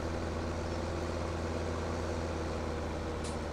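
A tractor engine idles in the video game Farming Simulator 17, a low, steady, even drone at moderate volume with no talking over it.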